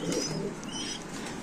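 Lakha pigeons at a pigeon seller's lofts, with chicks among them, coo softly and continuously at close range, mixed with faint chirps and light background rustle, no talking.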